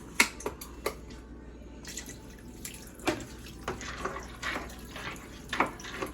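Chicken broth poured into a pot of noodles for seafood macaroni and cheese: a close, steady liquid pour with scattered splashes and drips, heard alone.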